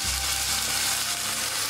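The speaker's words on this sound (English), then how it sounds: "we will fry this only for a few minutes inside, not long, because this meat is very tender" Australian marble score 7+ sirloin steak frying on a hot plate grill set to medium, a loud, steady, close sizzle that fills the whole stretch with no talk.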